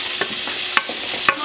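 Stuffed eggplant filling with peppers stirred in a pan, giving a few soft scraping strokes over a faint steady sizzle, close and fairly quiet.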